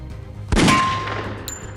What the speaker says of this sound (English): The bullet ricochets off Superman's tough skin.